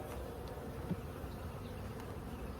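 Honeybees buzzing around an opened hive during a hive consolidation, a continuous low drone of many bees close by, fairly soft and steady, no talking.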